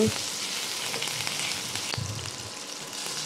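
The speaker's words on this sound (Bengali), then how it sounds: "এবার ওই বড়া ভাজা তেলেই আমি টুকরো করে কেটে রাখা আলুগুলো ভেজে নিচ্ছি" Potato pieces sizzle and fry steadily in hot oil previously used for frying fritters, a continuous crackling hiss with a few stirring knocks, close and fairly loud, no voices.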